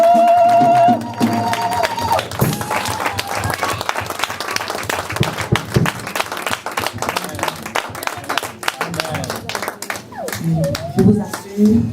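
Congregation in a church breaking into sustained applause and scattered cheering, a dense wash of many clapping hands with occasional voices rising through it, after a brief opening tone.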